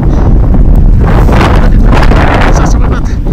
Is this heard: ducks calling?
no